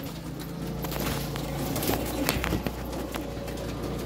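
Carrier pigeons in a loft give soft, low coos amid rustling and shuffling, a busy close ambience with no talk.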